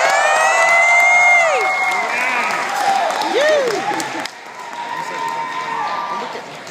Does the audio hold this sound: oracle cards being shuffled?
no